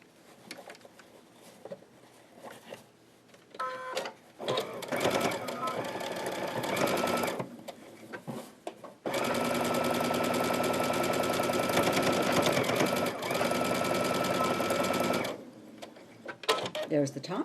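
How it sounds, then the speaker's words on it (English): Sewing machine double-stitching along the edge of a fabric book cover, running in loud steady bursts with short pauses as it backs up and stitches again, the longest run lasting several seconds. "I double stitch over the edge just to give it some strength."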